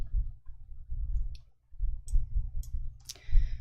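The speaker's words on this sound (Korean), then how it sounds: "행 높이 80 입력하시고 확인을 클릭." Computer mouse clicking while setting row heights in an Excel spreadsheet, four or five sharp, close single clicks spread over a few seconds above a low steady hum.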